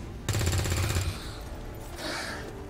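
Gunfire in the video game XCOM 2, a rapid automatic burst of shots lasting about a second, followed by a fainter trailing sound effect.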